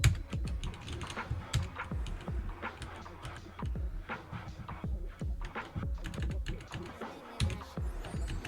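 Someone types a command on a computer keyboard, a close, brisk run of clicky keystrokes in irregular bursts, with no speech.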